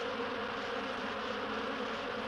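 Bees buzzing in a hive, a dense steady drone of many wings that stays even and close for the whole short stretch, with no voices.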